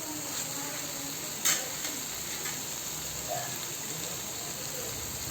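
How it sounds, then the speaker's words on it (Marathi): Paneer being stirred into gravy in a pan gives a soft, steady sizzle with light scraping and stirring sounds and one brief louder clatter, close by and without talk. "आपण पूर्ण आपल्या ग्रेव्हीमध्ये पनीर ॲड करून घेत आहोत। त्यांना मिक्स करून घ्यायचं।"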